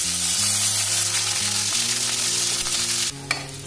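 Sliced capsicum fries in the oil left after frying paneer for shahi paneer, giving a loud, steady sizzle under background music that drops sharply near the end before a single stir knock.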